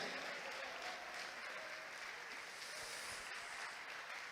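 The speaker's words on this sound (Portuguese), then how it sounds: "Vamos aplaudir mais o nome dele?" A church congregation claps steadily for several seconds, a dense, even wash of applause with no clear pauses and only faint voices beneath it.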